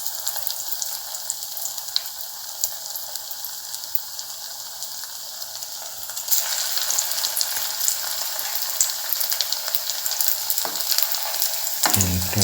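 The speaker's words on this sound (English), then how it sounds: "fry by turning from side to side until all balls are fried" Mango balls frying in hot oil as they are turned from side to side, a steady close sizzle and crackle that grows louder and denser partway through, with no talk.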